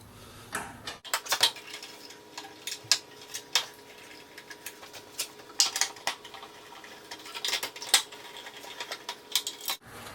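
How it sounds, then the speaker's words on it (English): Someone pulls the blower sheet metal off a lawn mower engine, making irregular metallic clanks, rattles and light taps close by, scattered in uneven bursts with quiet gaps between them and no voices. "we've got to take off the blower sheet metal"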